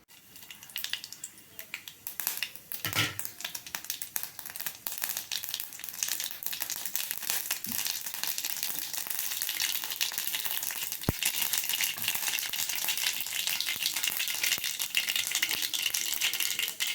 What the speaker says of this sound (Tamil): கடுகு நல்லா வெடிச்சிருக்கு.